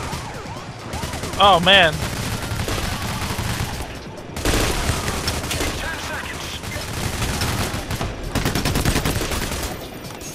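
Dense automatic gunfire fills a PAYDAY The Heist slaughterhouse-district shootout, continuous rapid bursts loud and close in waves, with a brief synthetic chime and players talking over the shooting.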